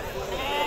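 Sheep bleat at a livestock sale in Timahdite, Morocco, in a short, fairly loud burst that blends with crowd noise and someone talking over it.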